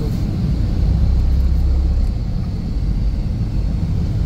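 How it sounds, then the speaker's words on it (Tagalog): A steady 2010 Ford Escape engine rumble drones evenly throughout, a loud low idle-like hum with no talking. "parang ang tatapang ng tunog ng makina niya"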